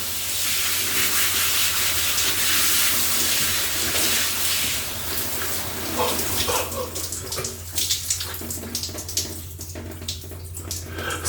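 A strong, continuous shower jet of high-pressure water hisses and splashes loudly, steady at first and then breaking into choppier spatters.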